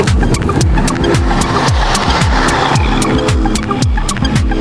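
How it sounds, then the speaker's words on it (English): Engine of a converted St John Ambulance bus on a promontory on England's North East coast: a loud, close, throbbing motor with a rhythmic pulsing beat running continuously throughout. "Jez Nichols picked me up in his converted St John ambulance bus"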